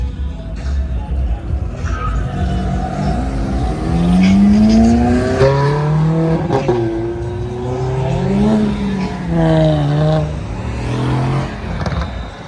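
Engines rev and rise in pitch repeatedly, several vehicles roaring nearby in steady New York City traffic, with whining gear-shift sweeps climbing and falling.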